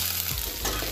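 Curry leaves frying in a hot pan for South Indian coconut chutney, giving a dense, steady sizzle and crackle close up, with a brief stirring scrape midway and no talking.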